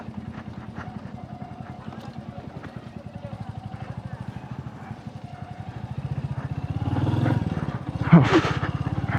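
A motorcycle engine chugs steadily in first gear while descending a steep, challenging off-road track. The low pulsing note stays close and constant, then swells louder near the end.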